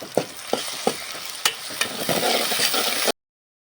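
Ginger-garlic paste sizzles and fries in a hot pan while a mutton blood fry is cooked, with a few sharp stirring clacks at the start and a steady crackle that stops abruptly near the end.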